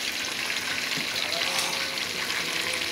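Chicken fries in hot oil, a steady close hiss and crackle, with a voice faintly in the background.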